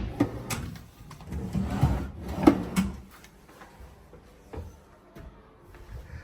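Wooden drawers in a hotel room slide open and shut, several scraping and thumping knocks with soft rubbing in between, close and fairly loud, without talk.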